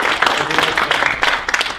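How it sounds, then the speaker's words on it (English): A college lecture audience gives a short round of applause for a presenter, a dense burst of clapping under a couple of seconds long with some speech faintly mixed in. "So let's have a round of applause"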